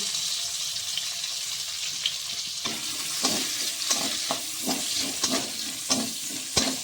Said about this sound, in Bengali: দেখুন পেঁয়াজটা একটু ভাজা ভাজা হোক